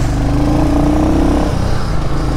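A Royal Enfield Hunter 350 motorcycle engine revs up loudly and steadily for about two seconds, a rising tone swelling then dropping back as the throttle eases, with no talk.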